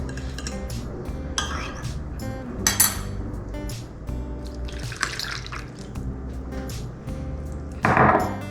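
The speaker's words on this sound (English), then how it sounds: "we're just gonna whisk that up" A whisk beats eggs into a batter mixture of dry ingredients in a bowl, giving quick, close clinks and wet sloshing with a few sharper rattling bursts.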